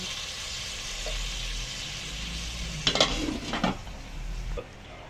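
A cooking pot of chicken with moringa and long green chilies in broth simmers with a soft sizzle, then a lid clatters and scrapes onto it in a brief burst of metallic clinks near the middle, nearby and fairly loud.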